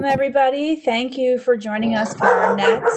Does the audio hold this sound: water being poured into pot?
no